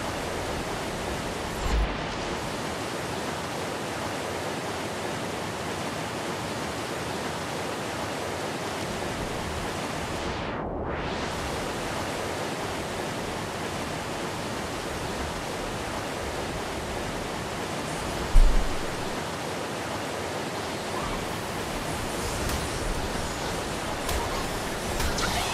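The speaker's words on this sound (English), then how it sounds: "Yeah, that water is like really loud, man." A loud waterfall roars inside a cave in the Ark video game, a constant, dense, close rushing wash of water that never lets up, with only faint brief knocks beneath it.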